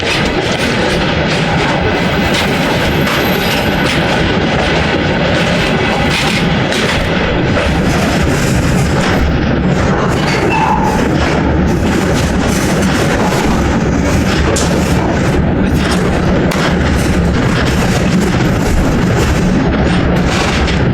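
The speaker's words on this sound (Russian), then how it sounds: "слышали, то, что дернулся один из составов, и пока мы слазили, он уже набрал такую огромную скорость" Freight train starting with a jerk and picking up speed on the rail line to the Baikonur cosmodrome in Kazakhstan: a heavy, continuous rumble and clatter of wagons, loud and close, with repeated booming knocks and no talk.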